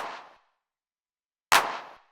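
Two sharp, thick sampled drum machine clap hits spaced about a second and a half apart, each decaying quickly into silence.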